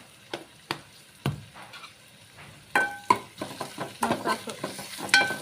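Mustard seeds splutter and pop in hot oil: sharp scattered crackles and bursts, sparse at first and then quickening into a denser run of pops, with no voices.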